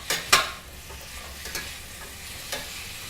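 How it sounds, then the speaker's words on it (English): A mirepoix of onions, celery and carrots sautés in a pan with a quiet, steady sizzle, broken by a few sharp stirring scrapes early on and again near the end, with no talking. "And we're going to saute that for a little while"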